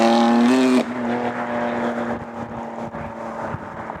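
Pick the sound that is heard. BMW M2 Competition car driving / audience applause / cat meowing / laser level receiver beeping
BMW M2 Competition car driving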